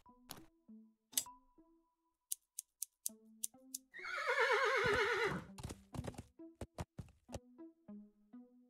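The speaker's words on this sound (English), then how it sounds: "So now we cut some of this hair off. Being very careful, I should be able to take what I need. Easy, horsey." Video game horse whinnies in a loud, wavering neigh mid-clip, surrounded by short clicks and snips of scissors cutting its hair, with light hoof-like clip-clops before and after.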